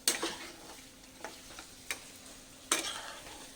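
Chicken coated in chili powder being stirred in a pan, several distinct sharp scrapes and clacks of a spatula over a quiet low sizzle, no talking.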